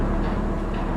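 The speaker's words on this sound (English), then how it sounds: "It's a quiet generator." Low steady electrical hum of a quiet generator in the game Conarium, a constant droning tone running unbroken and fairly close throughout, with no voices over it.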